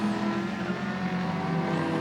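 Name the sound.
touring race cars accelerating past on circuit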